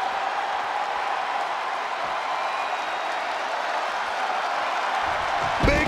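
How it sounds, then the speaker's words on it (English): A large arena crowd roars and cheers without a break during a Goldberg vs. Rock extreme rules match in WWE 2K22, a dense, steady wash of noise that holds at a constant level throughout. "The sound of this crowd is deafening, and he's asking for more"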